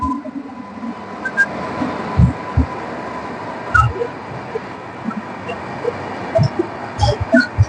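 A train bound for Puri rumbles along steadily, with irregular heavy clunks and thumps from the wheels and carriages standing out close by.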